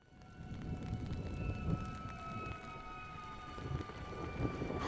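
Steady rain in a scene from The Walking Dead, a dense continuous hiss with low rumbling, with sustained string tones running through it.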